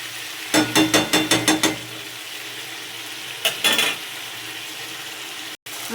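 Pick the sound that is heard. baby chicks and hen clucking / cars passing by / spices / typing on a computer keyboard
spices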